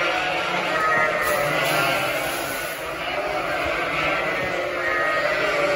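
Ewes bleat in a barn pen, several overlapping calls in a continuous noisy chorus, fairly close, with a steady hum underneath.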